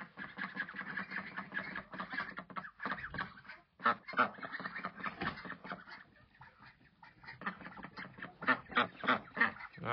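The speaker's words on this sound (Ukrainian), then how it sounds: "Балую я вас, качки." Several ducks quacking repeatedly in short bursts, close by, with overlapping calls and no talking.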